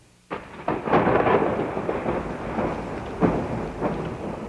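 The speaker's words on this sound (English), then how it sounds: "Great thunderstorms also took their toll." A thunderstorm rumbles in with a sudden crack of thunder followed by rolling booms and a steady wash of rain, with a second thunder burst later, loud and close, no voices.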